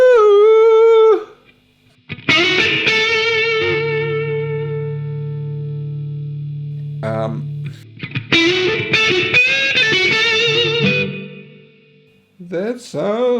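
Heavily distorted electric guitar through a high-gain Soldano amp model on an IK Multimedia ToneX ONE rings out in sustained chords and a low chugging note, then a brief lead phrase, saturated and loud with some reverb.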